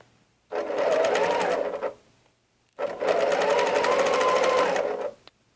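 Sewing machine stitching quilt pieces together in two steady bursts of rapid mechanical whirring, close and clear, separated by a short pause with no talking.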